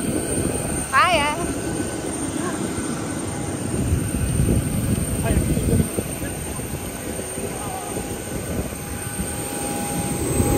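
An airliner takes off at Newcastle airport, heard as a broad, steady engine roar from a distance that persists throughout, with people talking nearby over it.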